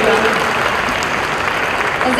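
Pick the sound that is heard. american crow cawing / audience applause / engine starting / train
audience applause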